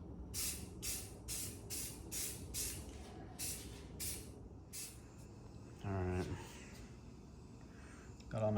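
Spray primer is applied to truck headlights on an F250 Super Duty in short, rhythmic bursts of close, crisp hissing, about ten quick sprays in a row, followed by a couple of sharper clicks and rattles.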